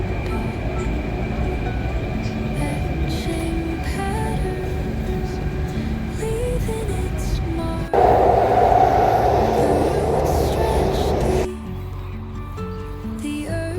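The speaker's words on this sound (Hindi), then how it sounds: "तो मेट्रो आके लग गई है, जल्दी चल रहा हूँ दौड़ते हुए।" A Delhi metro train pulls into an underground station, a sustained loud rumble of wheels on rails with tonal whines, swelling into a harsh braking hiss before the motor hum settles lower at the end.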